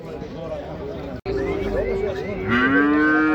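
Cattle and cows with calves at a Karabulak livestock bazaar near Shymkent give several loud, drawn-out moos close by, overlapping each other, with crowd babble and talk running underneath.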